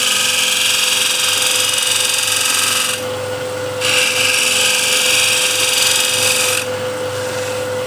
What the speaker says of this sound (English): squeezing the hand, and that way you're pulling the scraper towards yourself